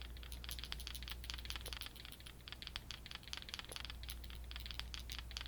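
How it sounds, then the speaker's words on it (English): Small batteries click and clatter together in quick, irregular taps, close and crisp, like light handling in the fingers. "I think batteries make such good sounds."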